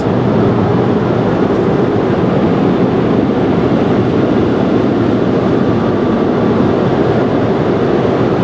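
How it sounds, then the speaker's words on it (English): Car wash blow dryers roaring steadily at very close range, a loud, unbroken broadband rush that fills the whole stretch without pause and with no talk over it. "That sound you hear right now that's really loud is the blow dryers."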